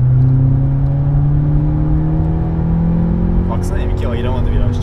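A car engine holds a steady, loud drone at full throttle on the Nürburgring race track in a Polo GTI, with a rising tone and a brief whine near the end as voices talk over it.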